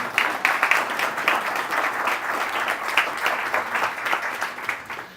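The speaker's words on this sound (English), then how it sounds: "So now we can clap, maybe." An audience at a campus opening event breaks into sustained applause, many hands clapping in a busy, slightly pulsing wash that stays fairly loud throughout.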